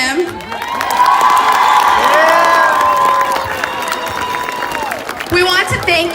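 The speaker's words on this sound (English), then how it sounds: "I ask everyone to give a big round of applause for him" Students at a school walkout cheer, whoop and clap for their principal, a loud, sustained crowd roar with shouting voices throughout, tapering briefly before a burst near the end.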